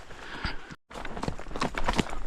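Horse hooves trot along a mountain path in a steady repeated clip-clop rhythm, fairly close, with a brief gap of silence early on and no talking over it.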